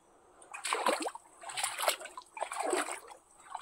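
Clear water trickling and splashing over sand and rock in a mountain stream, close by, in a few uneven bursts with quiet gaps between them.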